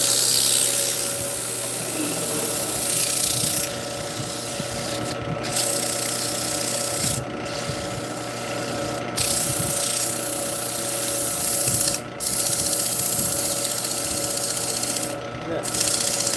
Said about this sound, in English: Come in here and sand the inside of it.